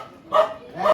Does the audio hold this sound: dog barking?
yes